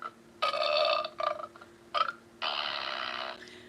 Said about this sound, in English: The fart's my favourite.